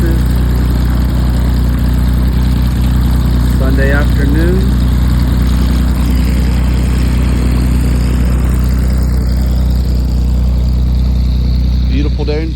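Cessna 180 airplane engine warming up on the ground before an oil change, a loud steady low drone running throughout, with someone talking briefly over it.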